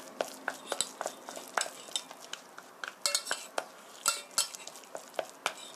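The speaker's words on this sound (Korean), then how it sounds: "고루 섞어주세요." A seasoned mixture for beef chop steak is stirred evenly in a bowl, producing a steady run of light utensil scrapes and clinks, close and fairly quiet, with no talking.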